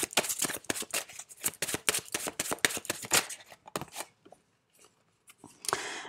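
Tarot cards being drawn and shuffled: a rapid run of crisp riffling flutters and snaps, then sparser slaps and shuffles as the deck settles, close and clear with no talking.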